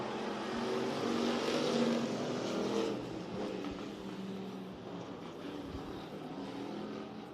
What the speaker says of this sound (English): We're about to start this heat race here for your Thunder Cars.